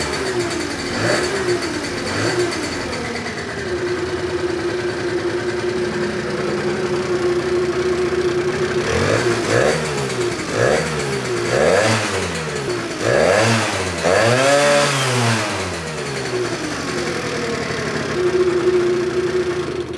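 A Simson Schwalbe moped fitted with a turbocharger starts and idles with a steady putter, then revs repeatedly in sharp rising and falling bursts before settling back to idle. The engine is close, loud and heard alone.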